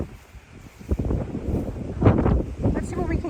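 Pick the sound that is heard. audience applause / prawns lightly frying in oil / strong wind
strong wind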